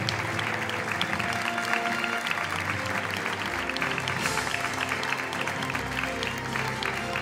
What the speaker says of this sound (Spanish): Fuerte el aplauso para Erika Torner